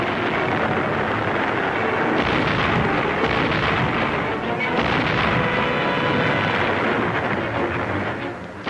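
A 1945 artillery battery fires continuously, a dense, loud barrage of booms and rumbling blasts that overlap with no pause.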